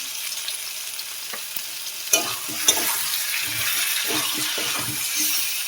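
Spices with chili powder and salt sauté in a pan for a fish curry with potato and pointed gourd, a soft sizzle under repeated spatula stirs and scrapes, with two sharper knocks against the pan.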